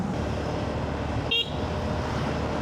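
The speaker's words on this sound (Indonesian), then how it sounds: "Nah, kayak gitu tuh klaksonnya." Brief, thin, high-pitched toot from a shrill snail horn on a Yamaha Fazzio scooter rises once over steady traffic and engine rumble.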